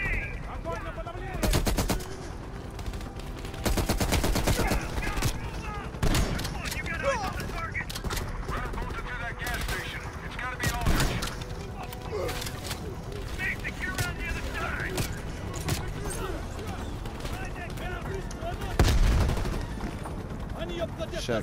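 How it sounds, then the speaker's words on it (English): Shotgun blasts in the video game Operation Chaos, loud and booming, several separate shots spread irregularly across the clip, mixed with other game gunfire and effects while a player talks over the action. "Shotgun putting in work right now"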